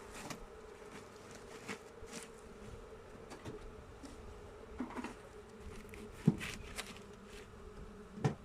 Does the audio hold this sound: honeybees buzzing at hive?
yes